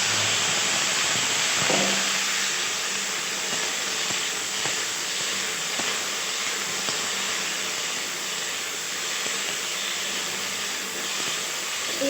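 Taro and potatoes frying in oil in a wok with five-spice seeds, a steady broadband hiss of sizzling throughout with faint scattered pops and a brief clatter near the start; no talking.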